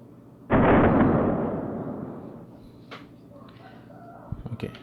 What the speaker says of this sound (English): so that's how burst fire works in Scorpion EVO 3A1